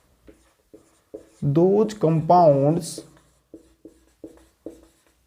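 Marker or chalk writing on a classroom board during a chemistry lesson on coordination compounds, heard as a series of short, regular scratchy strokes around a teacher's speech in the middle.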